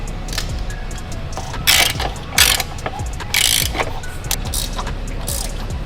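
A hand ratchet tightens downpipe bolts on a car exhaust, a B6A lower downpipe install on a Q50 with a VR30 engine, giving steady rapid clicking broken by several sharper bursts of metallic ratcheting, close and loud.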